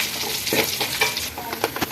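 Garlic sizzles briskly in hot coconut oil, a close, continuous crackling hiss with small pops and stirring scrapes across a short moment.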